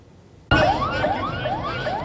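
Sirens wail outside the U.S. Embassy compound in Baghdad as it is stormed by militia supporters; after a brief hush, a loud siren cuts in suddenly and repeats rising, warbling sweeps in a steady rhythm.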